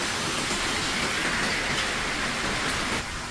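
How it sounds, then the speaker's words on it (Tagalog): Heavy rain pours down in Taiwan as a steady, dense, close wash of broadband noise. It holds nearly constant throughout, with no talking. "ganito kalakas yung ulan"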